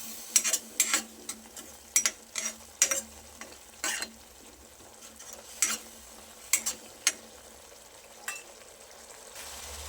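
Spice masala thinned with water cooks on a high gas flame for a split moong dal, a low bubbling sizzle broken by a dozen sharp, irregular spitting pops close by.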